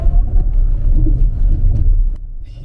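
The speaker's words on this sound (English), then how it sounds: "He composed the sound for this car, so when you put your foot down," A BMW i7 xDrive60 M Sport electric luxury saloon accelerating with its synthetic drive sound composed by Hans Zimmer, a loud, deep swelling hum and rumble that builds and then drops off sharply near the end, heard on its own.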